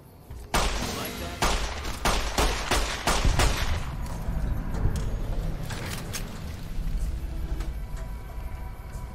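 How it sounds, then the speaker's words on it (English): Gunfire in Fallout New Vegas: a rapid string of sharp shots early on, then scattered further reports and combat noise, loud and up close under a continuous game soundscape. "Yep, soak up bullets, shoot them dead."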